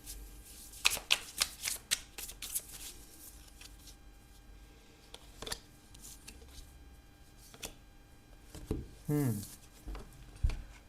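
Tarot cards being shuffled by hand nearby: several quick, crisp riffling bursts and soft slaps in irregular clusters, separated by quieter stretches, with a brief papery flutter toward the end.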